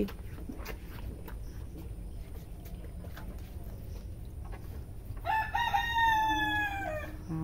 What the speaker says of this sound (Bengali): মোরগ ডেকেই যাচ্ছে।